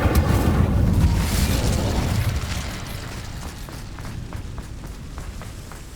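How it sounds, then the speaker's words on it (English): A fiery Incendio spell blast in the Hogwarts Legacy video game, a loud booming burst at the start that rumbles and fades over several seconds. "Incendio!"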